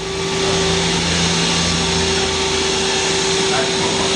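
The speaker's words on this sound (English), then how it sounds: "Machine's currently running at 1200 RPM" A Mazak QTN 250M-II CNC turning center runs its spindle at speed, producing a loud steady hum with distinct tonal whine and broad machine noise, constant throughout, with a voice talking over it.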